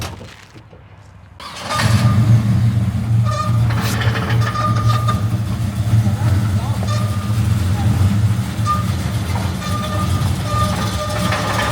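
An engine being pulled from a car for a swap fires up after a quiet moment and settles into a loud, steady idle with a deep rumble, while people talk over it.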